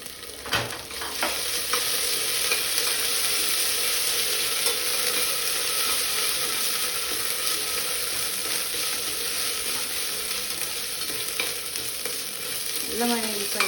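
Ginger garlic paste fries in coconut oil with a loud, continuous sizzle close up, with a few utensil clinks and stirring scrapes over the top.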